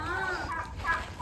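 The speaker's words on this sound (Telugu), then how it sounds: "ఈ పుంజులు ఉన్నాయి చూడు" Roosters on a farm crowing, with drawn-out harmonic calls rising and falling through the short stretch, fairly close and loud over a busy background of other farmyard noise.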